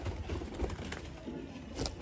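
Sialkoti pigeons cooing softly nearby, low throaty coos repeating in short bursts over a quiet background.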